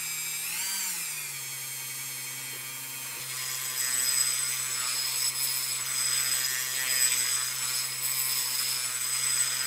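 A rotary engraving tool with a greenstone bit grinds with a thin, high whine, close and continuous, rising and steadying as the bit bites into the material, with no talking.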